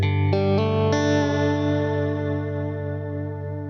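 An electric guitar through a reverb pedal with pre-delay turned up full: a few clean plucked notes, each followed by a delayed, lush reverb wash that swells and sustains, slowly decaying with no one talking.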